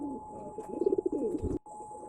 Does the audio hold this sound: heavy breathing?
no